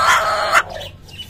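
A broody hen sitting on eggs gives a harsh, drawn-out cluck close by, loud and raspy, then breaks off into quieter background.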